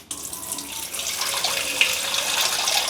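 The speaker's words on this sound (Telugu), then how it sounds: "సబ్బీంలో నలకలు ఉంటాయి కడుక్కుంటే పోతాయి ఒకటికి రెండు సార్లు కడుక్కుంటున్నాం" Sago being rinsed in a vessel under running water, a steady splashing wash that stays close and continuous throughout with no voices.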